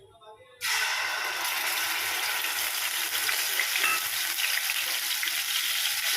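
Ginger garlic paste drops into hot oil with whole cumin and bursts into a loud, steady sizzle that starts abruptly and keeps up near and continuous, with a few faint crackles.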